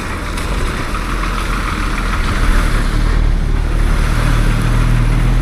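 A bus engine idles at the Kumuli stop on the Cumbum–Kumuli route, giving a steady, even rumble with a deep low drone throughout, and no voices over it.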